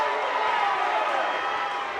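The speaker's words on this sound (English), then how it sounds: "Crowd got rallied up" Crowd at a girls' high school basketball game in a gym, a loud, steady roar of many voices rallying together with no breaks.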